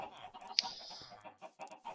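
Faint chicken clucks in Minecraft, one sharp squawk among soft scattered background sounds.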